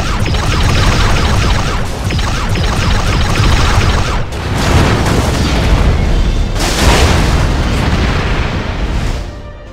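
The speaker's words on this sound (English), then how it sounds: "Simulated enemy ship has been destroyed." Simulated enemy starship destroyed in a sustained, loud roaring explosion, with rumbling blasts and crashing bursts rolling on for several seconds, no voices.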